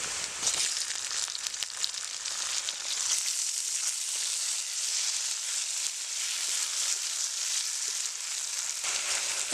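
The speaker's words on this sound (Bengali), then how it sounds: "পেঁয়াজটা একটু লাল লাল করে ভাজতে হবে" Onions and tomatoes fry in a pan for a Bengali pabda fish curry, giving a steady, bright sizzle that carries on unbroken with no talking.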